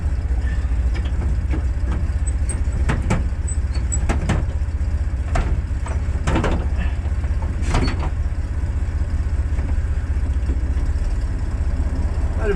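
A Ford F150 pickup's engine rumbles low and steady from close by as the truck pulls away after a clutch adjustment, with scattered clunks and knocks over the continuous drone and no talking.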